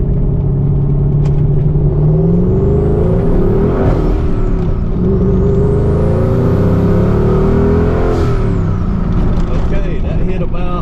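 A twin-turbo California Special car accelerating hard under boost, heard from inside the cabin with windows up: loud deep engine rumble with rising and falling whirring pulls across two gear sweeps.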